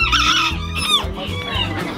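Rooster at a gamecock breeding farm, clucking and crowing in a short run of harmonic calls close by, with steady low farmyard hum beneath.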